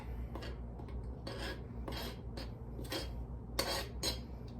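An ingredient is levelled off in a measuring cup while making butter tarts, heard as a series of quiet, close scraping strokes in an irregular rhythm against faint background hiss.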